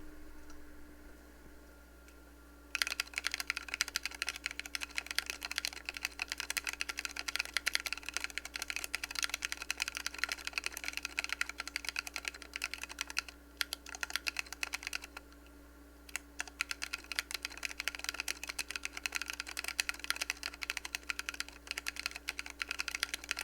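Typing on a computer keyboard, a dense run of close, crisp key clicks that starts after a quiet opening and continues steadily with a couple of short pauses, with no talk over it.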